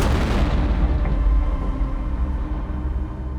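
A naval gun fires aboard a warship at sea in the Red Sea, giving a loud, heavy boom that rolls into a long, fading rumble.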